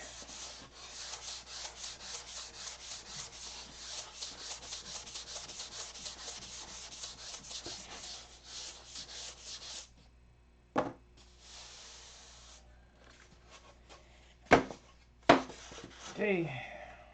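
Sandpaper rubbed rapidly back and forth over a doped model aircraft frame, a close, rhythmic scratchy rasp lasting several seconds before stopping, followed by a few scattered knocks and handling sounds.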